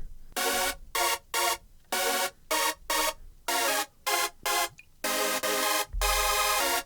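Short, punchy Hercules V3 synth chord stabs repeat in a syncopated rhythm with brief gaps, bright and loud, ending on a longer sustained chord with a low thump.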